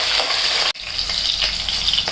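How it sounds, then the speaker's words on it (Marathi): Green chillies frying in hot oil, a loud, steady sizzle that runs without a break except for one short pause, heard up close with no talking. "मिरची चांगली फ्राय करून घ्यायची कारण तिखटपणा उतरला पाहिजे ना ह्याच्यामध्ये तेलात पण"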